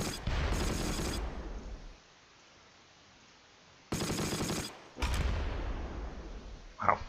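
Mortar and small-arms fire in the Close Combat: Last Stand Arnhem wargame, with several loud rattling bursts broken by a quiet lull of about two seconds, then more close, heavy volleys.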